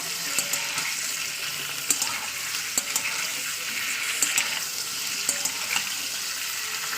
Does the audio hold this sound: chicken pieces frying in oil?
yes